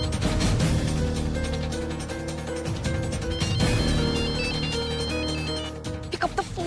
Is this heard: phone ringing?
yes